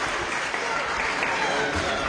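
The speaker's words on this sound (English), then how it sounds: "There's a cheer, lots of cheering" A crowd applauds and cheers at a Meath v Kerry hurling match in the 2021 Joe McDonagh Cup, a dense, steady roar with a commentator speaking over it.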